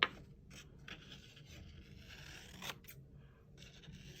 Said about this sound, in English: the color strip, I am going to cut into squares.